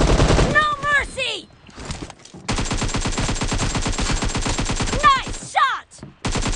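Rapid automatic gunfire from a PUBG match rattles in long, dense bursts with a brief pause between them, loud and close, while voices call out over the shooting.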